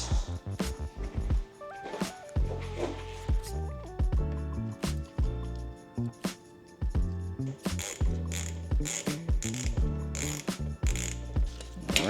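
Ratchet tightening sprocket bolts on the rear wheel of a 2025 Ducati Panigale V4, heard as loud, close clicking mixed with other mechanical and musical-sounding tones throughout.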